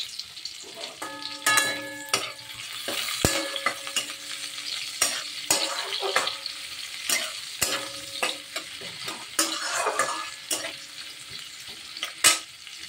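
Onion frying in a pan with dried chilli and black cumin, a steady close sizzle broken by scraping stirs and utensil clatter, with no talking.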